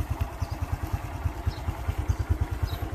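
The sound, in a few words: motorcycle engine idling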